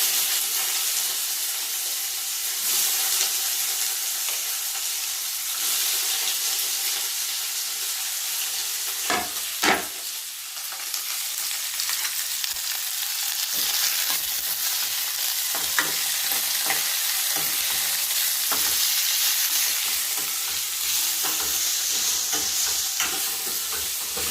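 Ivy gourd pieces frying in oil in a pan, a bright hissing sizzle held throughout with scattered stirring clicks and a sharper knock near the middle, close and without speech.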